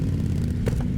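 Ducati Multistrada V2S motorcycle with its V2 engine and Termignoni exhaust, a close, steady, deep throbbing rumble that holds loud throughout with a brief rise near the end.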